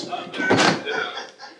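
Door of a toy police car opens with a dull thunk, with voices talking nearby.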